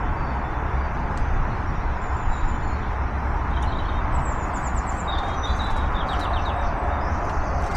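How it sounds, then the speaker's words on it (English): Birdsong at a campsite: a few faint, distant chirps and short trills rise above a steady broadband background hiss, with no talking. "So I'm just laying in bed now, listening to the birds song."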